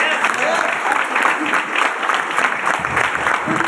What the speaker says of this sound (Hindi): उनके लिए ताली होना चाहिए